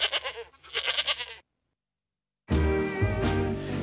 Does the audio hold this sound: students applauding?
no